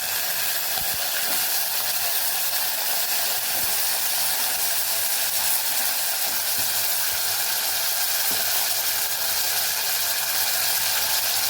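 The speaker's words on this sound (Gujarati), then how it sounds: "તેલને આપણે સરસ ગરમ થવા દઈશું અહીંયા આપણે બટેકા ઉમેરી દઈશું" Potato pieces frying in hot oil inside a pressure cooker, a steady loud sizzle and hiss with faint clicks, close and continuous with no talking.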